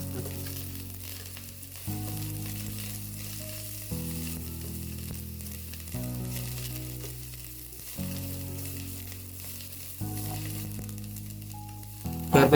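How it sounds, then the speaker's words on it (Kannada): Curry leaves, garlic and peanuts spluttering in hot oil for chutney powder, a continuous close crackling sizzle with stirring, broken into repeated segments, no voices. "ಕರಿಬೇವಿನ ಸೊಪ್ಪು ಸಿಡಿದ ನಂತರ"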